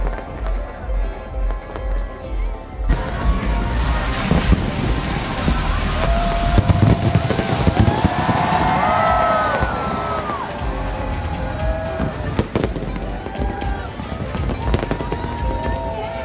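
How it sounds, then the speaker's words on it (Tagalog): A loud New Year's Eve fireworks display overhead at BGC, continuous booms and crackling bursts with whistling rockets rising, dense and close. "Napakagandang fireworks display."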